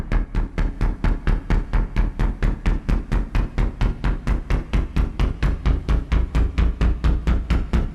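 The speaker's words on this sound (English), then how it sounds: "And here's a low stutter." A low stutter effect from the Risenge Pro plugin: a fast, steady train of deep, punchy repeated hits, about four per second, loud and even for several seconds with no voices.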